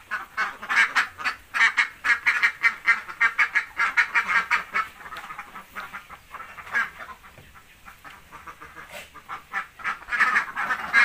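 A flock of about 200 egg-laying ducks quacks steadily in a pen in dense, overlapping bursts, loud and close, with a brief lull before the calls pick up again.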